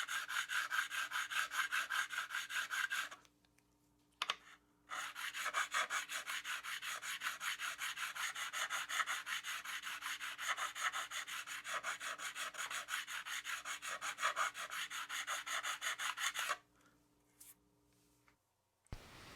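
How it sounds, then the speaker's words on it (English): Steady back-and-forth scraping of a StewMac Z file recrowning guitar frets, close and rhythmic, with short pauses between passes. "Now here's that same top-down view as I'm filing with this StewMac Z file."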